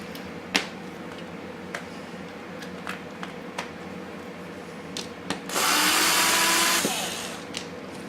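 A power drill bores into a QuadLugs 200 Mini+ quadcopter frame in one steady whirring burst of about a second and a half, preceded by scattered light clicks and taps of handling.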